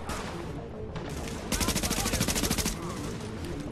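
MP5 submachine gun firing in The Division shooter game, a sustained fast automatic burst in the middle after scattered earlier shots, loud and close.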